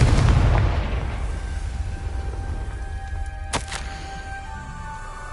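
Confringo explosive spell in Hogwarts Legacy going off as a single loud, close blast with a deep rumble that slowly fades into a lingering low roar, followed by a faint ringing tone and a brief crackle.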